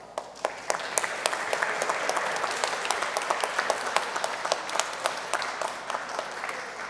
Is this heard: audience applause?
yes